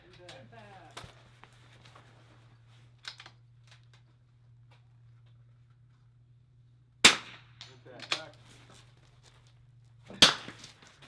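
Sharp rifle shots at an NRL22 rimfire match, two loud cracks a few seconds apart standing out over a steady low hum, with faint talk and small handling noises between them.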